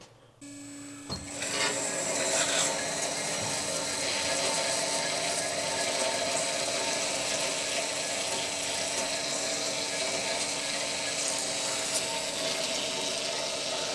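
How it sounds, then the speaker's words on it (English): A Revolution Machine Tools bandsaw with a freshly fitted blade starts up, then runs at a steady, smooth hum with a faint mechanical whir and light ticking, alone without talk. "this blade sounds like it's running really smooth"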